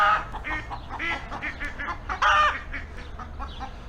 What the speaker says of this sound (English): birds all got excited all of a sudden.